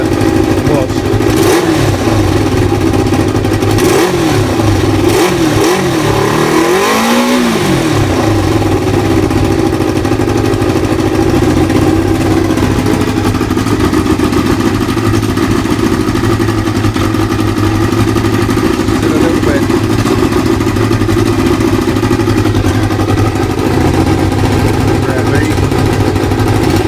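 A Kawasaki ZL600 Eliminator motorcycle with freshly balanced carburettors runs close by, holding a steady idle. One sharp rev swells and falls early on, then the engine settles back into a continuous, even idle.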